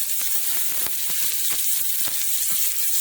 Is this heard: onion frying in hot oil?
yes